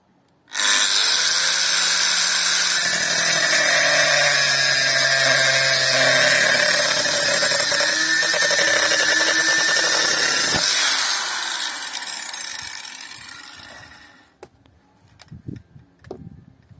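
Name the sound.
Mächtz MAG-12/1370 CVS angle grinder cutting rebar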